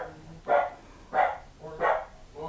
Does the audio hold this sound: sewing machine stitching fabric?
no